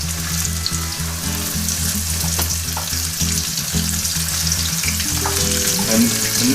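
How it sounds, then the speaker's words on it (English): Alligator ribs frying in about three-quarters of an inch of vegetable oil at 350 degrees in a frying pan, a loud, steady, close sizzle with constant crackling bubbles and no talking. "And these are going to fry."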